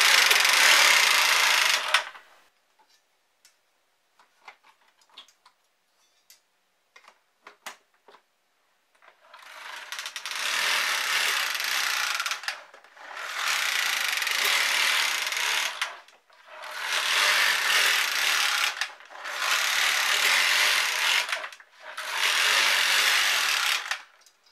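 A knitting machine carriage knits across rows of a hat in repeated loud, rasping sweeps of about three seconds each, separated by short pauses, after a stretch of quiet clicks and handling.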